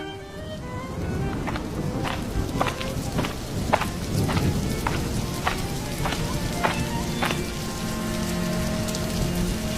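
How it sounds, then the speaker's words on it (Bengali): Steady rain pours down in a Bengali moral cartoon, a dense continuous hiss broken by scattered sharp drip and splash ticks, close and even throughout with no voices. "বললাম না বৃষ্টি নামবে, নেমে গেছে দেখ।"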